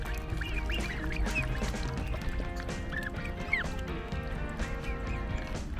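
Ducks quack repeatedly and close by at a farm in Taiwan while feeding, their calls overlapping in a busy, continuous chorus with no talk.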